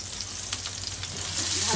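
Cauliflower and potatoes fry in a pan with a steady, loud sizzle and crackle throughout, and a little stirring is heard near the end.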